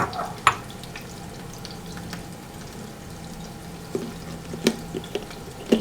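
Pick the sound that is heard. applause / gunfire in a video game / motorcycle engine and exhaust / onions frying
onions frying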